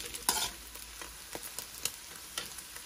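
Vegetables for South Indian-style shrimp noodles stir-fried in a pan, a steady sizzle broken by repeated scraping strokes of a spatula at an uneven rhythm, close and fairly quiet, with no talking.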